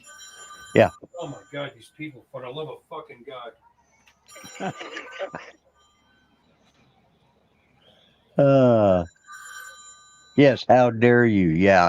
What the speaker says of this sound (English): That's my phone again.